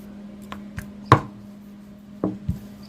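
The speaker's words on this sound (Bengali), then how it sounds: "একইভাবে আমি আরেকটি পরোটাও বেলে নেব।" Paratha dough for paneer paratha being rolled out with a rolling pin, heard as a few sharp knocks and thumps spaced irregularly over a steady low hum, with no talking.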